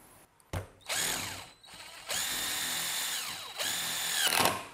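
A Power Action CIS1 cordless impact screwdriver drives a fat screw about 7 to 8 cm long, whirring in several close bursts that ramp up and stop, with brief pauses between runs.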